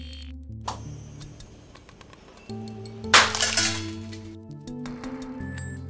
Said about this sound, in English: A steel ball, 4mm in diameter, is projected by an airgun at a speed of 100 km an hour against a fog lens in Hologlass 100 glass